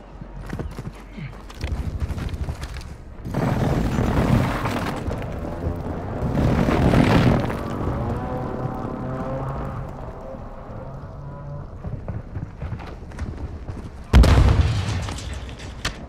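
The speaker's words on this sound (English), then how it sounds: "Enemy precision airstrike." Precision airstrike explosions land in Call of Duty: Modern Warfare II, a series of heavy booms and rumbling blasts with pauses between them and a final sharp hit near the end, loud and close.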